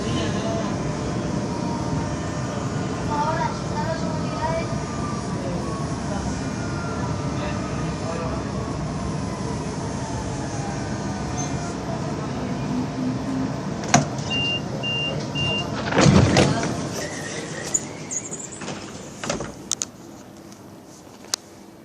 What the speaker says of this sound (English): The train is going now.